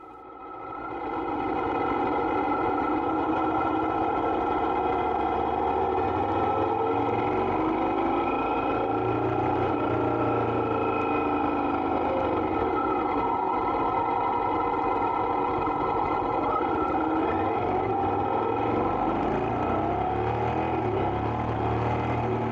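A 2023 Honda Africa Twin Adventure Sport twin-cylinder motorcycle rides along a road, its engine a loud, continuous drone that swells slightly and holds steady, with wind rush and no talking.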